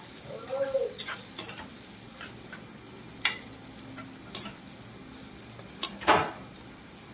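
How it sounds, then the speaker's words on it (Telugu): Onions and tomatoes with turmeric and salt frying in a pan, stirred with close scraping strokes and clinks over a steady sizzle, with several sharper scrapes standing out. "కలుపుతూ ఉండాలండి, లేకపోతే అడుగంటిపోతాయి, లేకపోతే మాడిపోతాయి"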